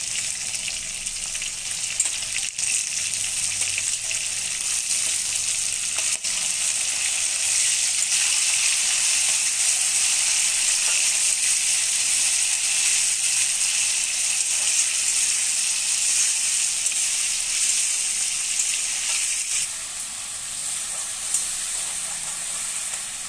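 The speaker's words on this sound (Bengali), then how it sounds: "এখানে আমি চিংড়ি মাছ দিলাম" Prawns frying in hot mustard oil with onions in a kadai, a steady loud broadband sizzle and hiss that holds without break, dipping briefly near the end before resuming.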